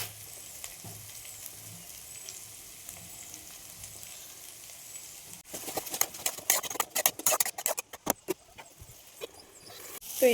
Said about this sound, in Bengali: যে ভাজাটা কিন্তু হচ্ছে